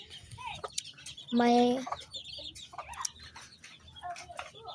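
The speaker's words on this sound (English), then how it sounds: "So I'm gonna let this chicken eat first so I can touch it and show you guys." Chickens on a farm cluck faintly and intermittently near the recorder, with one louder, drawn-out call standing out; a brief spoken word is heard among them.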